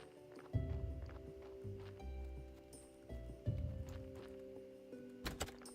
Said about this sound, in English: the sound of the donkey dropping off a body.